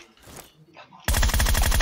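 Rapid automatic gunfire in PUBG Lite bursts in loud and close after a second of quieter game ambience, a dense, sustained rattle of shots continuing to the end.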